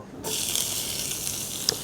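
A sudden burst of loud hissing sizzle as eggplant hits hot oil in a wok, continuing steadily with small crackles.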